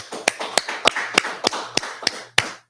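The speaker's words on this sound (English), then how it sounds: "let's clap it up" Audience at a religious teaching gathering clapping in unison: about eight sharp, evenly spaced claps in a steady rhythm, fairly close and alone without talk, ending abruptly.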